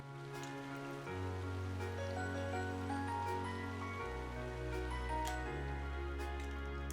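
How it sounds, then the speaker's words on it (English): Steady rain patters continuously beneath soft, sustained background music that shifts slowly between chords, in the video game Trails of Cold Steel. "a rainy spell seemed to hang over Trista"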